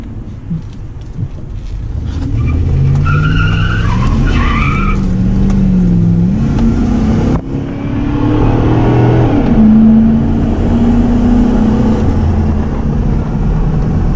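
A 1998 Dodge Cummins diesel pickup with stock exhaust revs up and accelerates, its deep drone rising in pitch twice with a brief break between pulls, heard from inside the cab through an open rear window.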